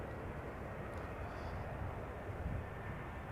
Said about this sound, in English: The next airplane is an EasyJet A319 flight